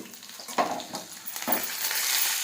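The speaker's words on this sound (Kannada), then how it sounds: "ಈರುಳ್ಳಿಯನ್ನು ಹಾಕ್ತೀನಿ." Onions hit hot oil and crackle into a sizzle, with a couple of stirring scrapes in a pan, the frying growing steadier and louder up close.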